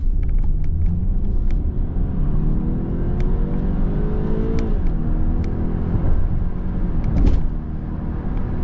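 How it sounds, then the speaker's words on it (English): A BMW X3 SUV drives through a U-turn with a steady engine hum and road rumble. The engine pitch rises and falls slightly as it turns. Light clicks sit over the drone, and no one speaks. "I'm going to check the turning radius on this thing by doing a U-turn"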